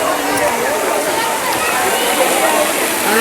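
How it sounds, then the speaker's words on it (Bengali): Steady broadband rush of Moti waterfall pouring water at a hill spot near Kolkata, continuous and fairly loud throughout with no clear breaks. "বন্ধুরা এই যে দেখতে পাচ্ছ, এটাই হলো মতি ঝর্ণা।"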